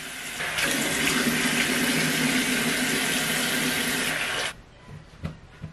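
Water runs steadily from a tap into a sink while someone washes their face with soap, a loud continuous rush lasting several seconds before cutting off abruptly, followed by a few faint drips and small handling sounds.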